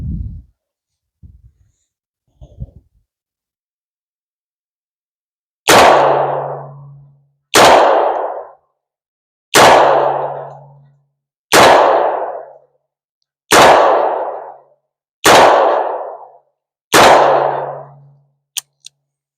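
.38 Special revolver rounds fired at steel plates outdoors: seven loud, evenly spaced shots about two seconds apart, each followed by a ringing metallic clang, after a few faint handling sounds at the start.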